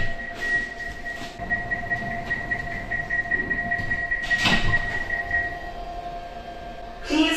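Airport shuttle train in Istanbul running steadily, a sustained rolling rumble with a thin high whine and a couple of sharp metallic clanks, heard from inside the car.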